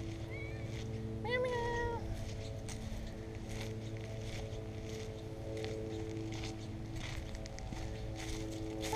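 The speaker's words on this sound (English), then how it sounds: "Kitty cat." A cat gives a short rising meow, then a second one, fairly close, over a steady background hum with soft rustling.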